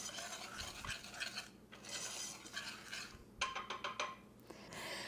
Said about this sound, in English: We're going to whisk that for smoothness.